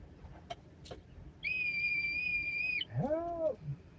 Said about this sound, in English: It's my rake whistle.